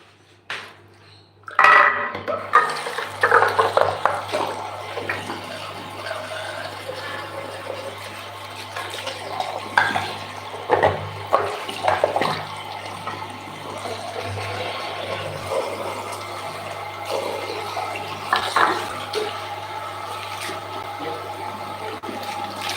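Water is changed for a pet, with a loud sudden rush of water followed by splashing, clinking of a bowl or dishes and continuous running water, close by and without speech.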